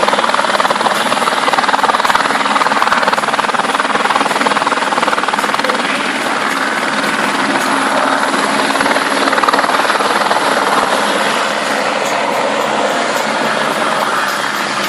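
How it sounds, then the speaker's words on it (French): A multipurpose helicopter on a water mission: a loud, continuous roar with steady rotor chop fills the whole stretch, close and unbroken, with no voices. "C'est un hélicoptère polyvalent"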